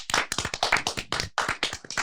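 A small studio audience claps in a quick, uneven burst of sharp hand slaps lasting about two seconds, close and fairly thin, with no voices over it.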